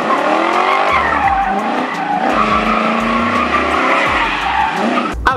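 A V8-powered Ford Focus drift car's tires squeal in long screeching slides while its deep V8 engine roars and revs underneath, loud and close.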